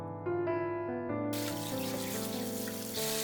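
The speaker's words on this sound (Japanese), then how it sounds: "梅はきれいに洗います。" Ume plums washed in water while making sugar-free fermented plum miso, with a steady rush of splashing water rising partway through beneath sustained background music.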